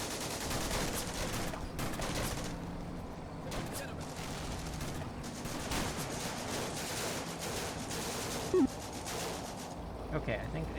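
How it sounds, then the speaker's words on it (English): Mortar and gunfire in Combat Mission: Afrika Korps, a World War II battle at Gallabat, as a dense, continuous rumble of distant bursts and crackling shots that runs steadily throughout with no single blast standing out. "Oops, that looks like it's a mortar."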